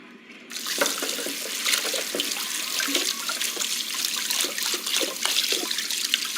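Tap water runs steadily into a kitchen sink while dishes are washed in the video game Captain Spirit, a continuous splashing flow starting abruptly after a brief quiet moment, with faint clinks scattered through it and no talking.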